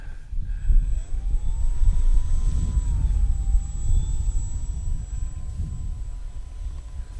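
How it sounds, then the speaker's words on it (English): Apprentice S 15e ready-to-fly electric RC model airplane taxiing on grass, its motor whining steadily and close with gliding pitch changes as the throttle shifts, over a low rumble of outdoor wind. "I'm going to taxi all the way out onto the grass."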